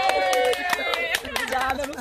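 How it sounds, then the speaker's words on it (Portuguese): Studio audience at a live Brazilian TV programme claps in short bursts of applause, with a presenter's voice and music running over the sound throughout. "Uma salva de palmas para a nossa cidade."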